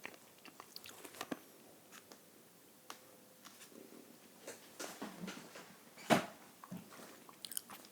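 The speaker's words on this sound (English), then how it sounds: "I am chewing on Tic Tacs today" Tic Tac mints are chewed close to the mic in a quiet whispery setting, giving scattered crisp crunches and wet mouth clicks at an irregular pace, with one sharper crunch standing out.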